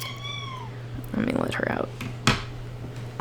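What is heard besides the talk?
cat meowing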